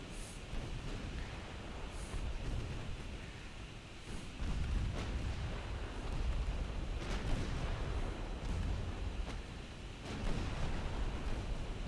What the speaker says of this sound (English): And I want you to shoot your secondary guns at that guy also.